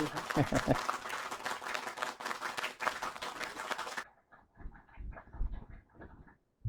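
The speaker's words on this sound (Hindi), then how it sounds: "पूरी तालियों के साथ स्वागत कीजिए" Audience applause welcoming a guest at a Hindi poetry gathering in Jaipur, dense clapping for about four seconds that cuts off abruptly, followed by a few scattered claps and quiet sounds.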